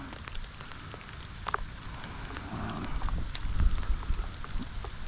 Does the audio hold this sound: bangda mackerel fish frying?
no